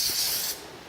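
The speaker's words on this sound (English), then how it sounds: "I'm just going to lightly spray this" Aerosol adhesive sprayed lightly onto fabric layers before cutting on a Cricut Maker, a close, steady hiss lasting about half a second, then cutting off into quiet.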